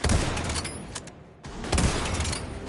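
Sniper rifle fire in a video game: loud, dense cracking gunfire that fills the moment, dips briefly into near quiet, then bursts back with more heavy reports, close and with no voices.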